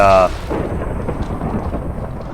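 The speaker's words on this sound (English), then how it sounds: "it's a lightning spell." Fulminance lightning spell in the Minecraft Nyctocosm datapack, a brief bright crack at the start followed by a loud, sustained rumbling thunder roll that fills the rest of the moment.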